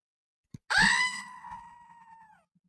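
A battery-powered screaming goat toy lets out a single loud, wavering bleat-scream of about two seconds that trails off, with a brief click just before it.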